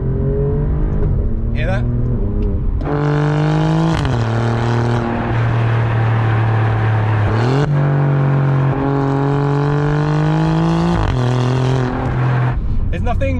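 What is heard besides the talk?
Alfa Romeo Giulia Quadrifoglio 8-speed ZF gearbox upshift cracks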